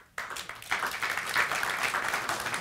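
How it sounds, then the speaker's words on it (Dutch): Studio audience applause on a Dutch live talk show, bursting in after a brief silence and holding as steady, dense clapping for a couple of seconds. "Applaus"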